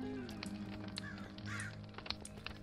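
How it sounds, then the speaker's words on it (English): Crows caw in the background of a medieval-styled Minecraft world, a few short calls scattered over a steady ambient bed of game sound. "Crows in the background."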